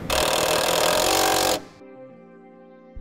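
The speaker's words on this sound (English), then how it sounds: "To secure it, we'll just use a self-tapping screw." A power driver sends a self-tapping screw into the inner fender well of a 2006 Ford F-150, a loud close whir for about a second and a half that stops abruptly, leaving faint hum.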